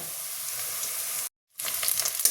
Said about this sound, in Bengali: আমি এবার এই চিংড়ি মাছটা কড়াতে দিয়ে দিলাম।